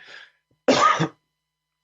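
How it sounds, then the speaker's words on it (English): A single harsh cough, close and loud, preceded by a faint breathy sound and followed by silence. "Sorry, didn't mean to cough in your face"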